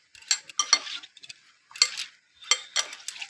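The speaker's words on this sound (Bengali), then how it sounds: "এখন সব উপকরণ একসাথে মেখে নেব।" Paneer, raisins, cashews and spices being mixed together by hand in a bowl: soft, close clicking and scraping strokes come in short irregular clusters with quiet gaps between them, and no talking.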